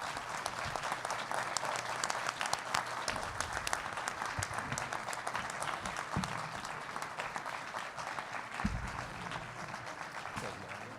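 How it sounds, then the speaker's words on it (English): A room of audience members applauds the candidates after a student government presidential and vice presidential debate, steady dense clapping sustained for several seconds at a fairly even level. "this room deserves a round of applause for our candidates"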